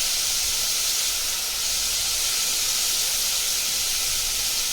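Vegetables frying in a pan with salt and turmeric for sambar give off a steady, even hiss that holds at the same level throughout, with no talking.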